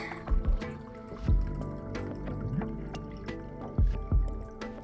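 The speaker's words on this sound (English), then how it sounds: "Just gonna pour myself some tea real quick." Tea poured into a cup close by, with soft splashing and dripping, a few low thumps and clinks of the cup or pot, and no talking.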